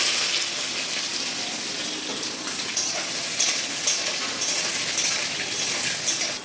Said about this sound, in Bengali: সেদিকে আগে বেগুনটাকে ভেজে নেব